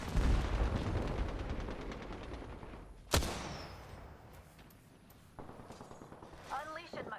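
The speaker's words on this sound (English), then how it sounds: "Fox 3, firing missiles." Missile fire in the video game Apex Legends: rapid, dense mechanical bursts, then one sharp loud blast partway through that trails off into rumbling and scattered clatter, with a voice speaking and some chirping sounds near the end.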